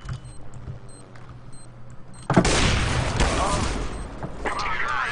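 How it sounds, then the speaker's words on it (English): A flashbang grenade detonates in a CS:GO match, a sudden loud burst about halfway through followed by a sustained bright ringing wash over quieter game ambience beforehand. "I'm throwing the flashbang."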